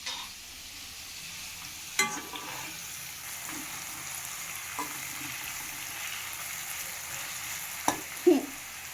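Sliced onions sautéing in a pan for paruppu kulambu give a steady, moderate sizzle and frying hiss, with a few clanks of stirring and a louder scrape near the end.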